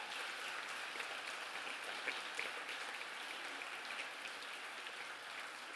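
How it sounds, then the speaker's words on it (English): Soft, even applause from a conference audience at a Seville conference opening, heard as a distant, continuous patter without any speech. "I want a round of applause for that"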